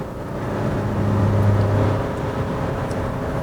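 A Nissan Frontier pickup's engine roars steadily under full throttle from about 60 km/h, a loud continuous drone with rising road and wind noise and no talk.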